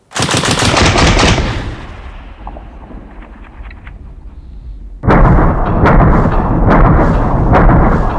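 Loud Heckler & Koch MG4 light machine gun fire in sustained rapid bursts, a long burst at the start, a pause with echoing tail, then another extended rattling burst.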